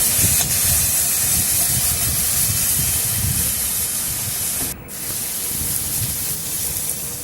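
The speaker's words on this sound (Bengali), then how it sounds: "সবজিটা যতক্ষণ না সেদ্ধ হয় ততক্ষণ সবজিটা ভাজতে থাকবে" Mixed vegetables fry in a pan with a pinch of sugar for a fasting-day sabudana pulao, giving a loud, steady sizzling hiss that runs throughout with one brief dip near the end.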